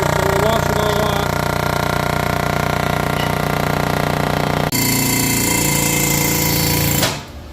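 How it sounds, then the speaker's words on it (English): Valve guides being driven out of a Chrysler 4.7 cylinder head with an air hammer, a loud, fast, continuous rattling hammering close by that shifts pitch partway through and then cuts off abruptly. "He's taking valve guides out of the head."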